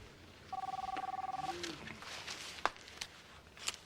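A phone trills with a rapid electronic ring for about a second in a quiet indoor room, followed by a few faint knocks and clicks.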